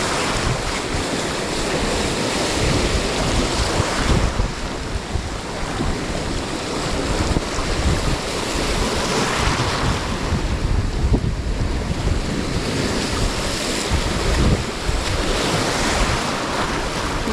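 Steady, roaring surf along a rough shoreline, waves crashing continuously and loudly with heavy wind buffeting the microphone throughout.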